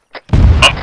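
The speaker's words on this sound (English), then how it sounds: "we're engaging the Stug with the pack 40. You might hear an explosion" A Pak 40 anti-tank gun fires on a StuG in a World War II video game, a short pop followed by a heavy, loud booming explosion that rolls on with rumble and a sharp crack near the end.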